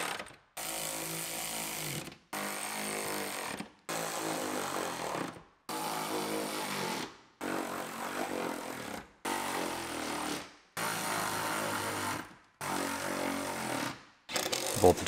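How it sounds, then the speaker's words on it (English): A power tool drives nuts onto seat bolts while a dirt bike is assembled, eight loud whirring, ratcheting bursts of about one to two seconds each, separated by short pauses, with no talk. "Power tools this time, I don't have to do it by hand."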